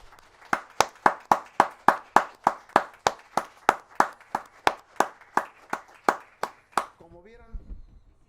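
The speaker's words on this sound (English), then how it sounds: "Applause for the sons of Elohim" Rhythmic unison clapping from a church congregation, about two claps per second in steady beats for roughly six seconds, then stopping as a voice begins to speak.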